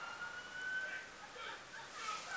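A distant police siren in Grand Theft Auto V wails faintly, its pitch rising and falling steadily beneath a hiss of background noise.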